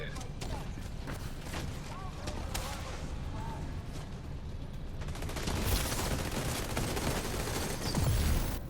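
Rapid bursts of gunfire ring out during the Iron Horse boss fight in a video game, dense and continuous over a busy layer of game effects, growing louder toward the end.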